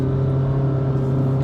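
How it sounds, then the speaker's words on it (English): 2020 Honda City 1.5 DOHC VTEC on the road, a steady, loud engine hum with a constant drone throughout, heard from close by with no voices. "When you get on the road, when you start driving this Honda City"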